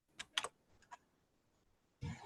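Someone on an online meeting call types on a computer keyboard, producing a few faint, quick key clicks in an irregular burst, followed by a louder thud near the end.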